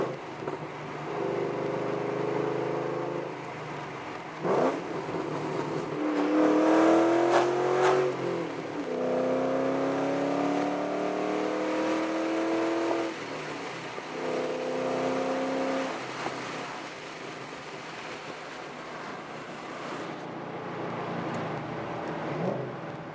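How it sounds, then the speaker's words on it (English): A car engine fitted with Howards Rattler cams revs hard toward wide-open throttle, climbing and falling in several loud, rough pulls with a lopey note. Heard fairly close, with no speech over it. "Thing sounds really good at wide open throttle."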